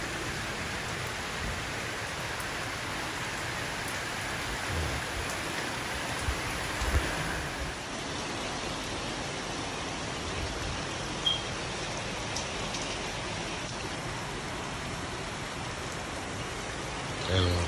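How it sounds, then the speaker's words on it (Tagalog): Steady rain falls outdoors around a pigeon loft in New Zealand, a dense even hiss with a few louder drops and bumps, continuous throughout; a voice speaks faintly beneath it. "Ayan mga ka-extreme, tingnan umuulan."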